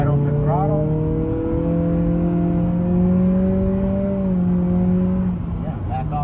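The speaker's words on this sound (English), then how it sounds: "gonna take off and then just get into it now, wide open throttle" An Acura Integra A-Spec pulls hard at wide open throttle, engine note climbing steadily in pitch over several seconds, loud and close, then easing off at the end.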